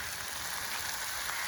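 Soya meat curry masala sautés in a pan, giving a steady, bright sizzle and crackle with no break and no voices.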